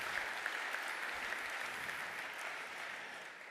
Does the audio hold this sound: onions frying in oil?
no